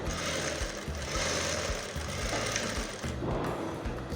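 A sewing machine stitches a quarter-inch seam along the zip allowance of a simple skirt, a steady rapid mechanical whirring and knocking that runs continuously and close by with no pauses or talk.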